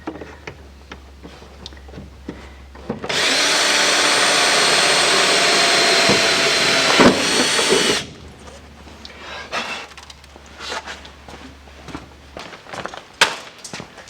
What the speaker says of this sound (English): drill the hole right through the top